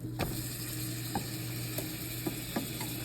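A grilled cheese sandwich frying in butter in a pan gives a steady, moderate sizzle with a constant hum beneath it, broken by several sharp scraping clicks as a spatula works under it to flip it.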